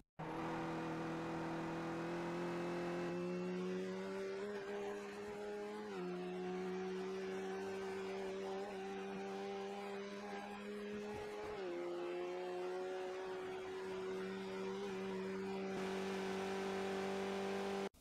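Skip Barber race car in iRacing at Bathurst, engine screaming at high RPM under full throttle, a steady sustained whine with brief dips where gears change, close and loud throughout.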